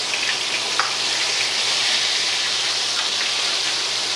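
Chicken livers fry in hot oil in a pan for Southern fried livers, a dense, steady sizzle with scattered pops and light stirring, close and loud with no talking.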